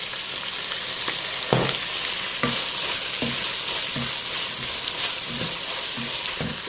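Vegetables and minced meat for a Cameroonian rice dish fry and simmer in a pan with a steady close sizzle, broken by a few sharp scrapes and knocks of a utensil stirring.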